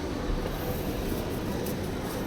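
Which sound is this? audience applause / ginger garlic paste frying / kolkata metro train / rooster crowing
kolkata metro train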